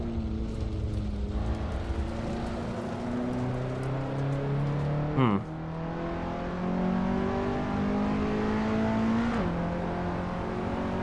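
A race car engine in the sim racing game Assetto Corsa, steady droning tone that drops through downshifts with a sharp blip in the middle, continuous and fairly close with no talking.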